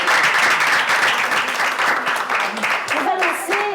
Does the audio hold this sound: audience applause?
yes